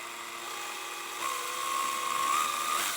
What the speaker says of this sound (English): the drill's on slow speed